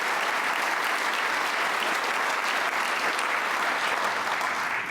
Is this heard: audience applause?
yes